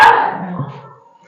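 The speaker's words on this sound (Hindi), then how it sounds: "कुत्ते भौंक रहे हैं" Dogs barking nearby in a short burst, a sharp loud bark at the start followed by a fading whine-like tail, heard during a chemistry lesson indoors.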